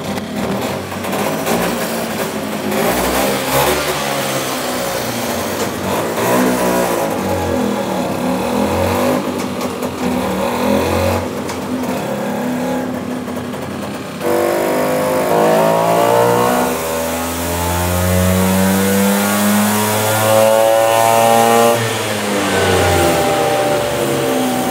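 A tuned Vespa scooter engine roars continuously on a dynamometer, loud and close, its pitch climbing and falling through several rev sweeps as it is held and pushed harder toward the end.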